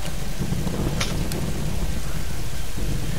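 Heavy rain pours steadily in a Tomb Raider video game thunderstorm, a dense loud wash with low rumbling thunder underneath, no voices.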